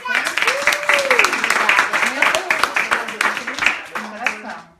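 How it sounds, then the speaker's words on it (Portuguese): Audience at a talk on early-childhood psychology clapping hands, a sustained patter of applause with a voice speaking over it. "Vamos bater palmas para vocês."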